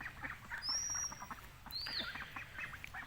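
White ducks on a duck farm give off a busy, close-up chorus of quacking and honking with scattered rough calls and a few higher squeaky notes, with no talk over them.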